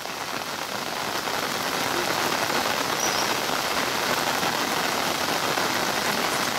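Steady rain falls and patters on surfaces nearby, a dense, even hiss of drops that holds constant throughout with no other sounds standing out.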